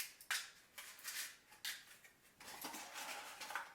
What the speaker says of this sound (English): So I'm gonna start just by lining the muffin tin.